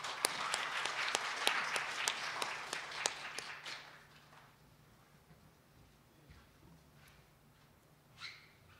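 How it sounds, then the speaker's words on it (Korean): Audience applause at the opening ceremony of the 2020 Korean Association of International Studies annual conference: a dense burst of clapping with sharp individual claps that fades out after about four seconds, leaving quiet room tone and a faint later rustle. "모두 박수로 맞아주시기 바랍니다."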